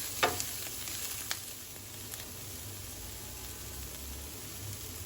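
Spices for sambar, including mild Byadgi chilli, fry quietly in a pan with a soft, even sizzle and a few faint stirring ticks near the start.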